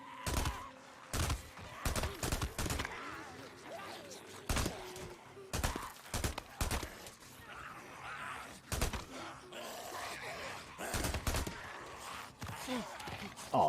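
Gunfire in the video game Days Gone during a raider ambush, with repeated sharp shots in irregular bursts over a busy backdrop of grunts and groans, loud and close throughout.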